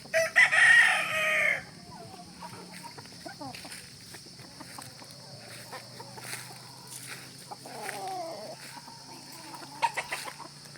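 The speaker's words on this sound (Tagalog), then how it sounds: "Ito ang aming mga nakataling manok." Tethered chickens on a hot midday farm, with a brief loud burst of clucking and crowing at the start, then softer scattered clucks and bird calls over a steady background hum.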